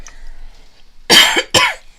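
Two harsh coughs in quick succession, loud and close, after a near-silent stretch with faint background noise.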